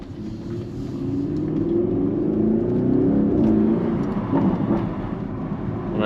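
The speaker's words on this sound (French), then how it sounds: "On a un retour à l'échappement très beau." An Audi RS6 Performance with a full titanium Akrapovic exhaust rumbles deep and steady, a close, loud engine drone that swells a little in the middle, with no talking.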